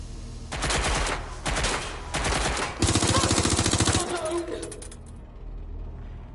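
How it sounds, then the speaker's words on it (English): Heavy gunfire in Watch Dogs: Legion, with loud bursts of rapid automatic fire in several sustained volleys that then fade into quieter background action. "Getting shot at here."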